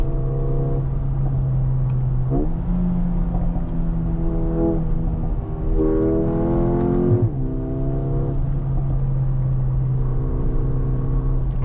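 Engine of a Mercedes-AMG GT63 driving through corners, heard from inside the car as a steady, loud, low drone that rises and falls in pitch as the gears shift.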